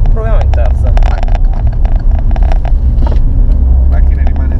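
An Alfa Romeo Giulia Quadrifoglio engine pulls hard in third gear, a loud, close, rasping roar with rapid crackles and a gear change partway through, heard from inside the car.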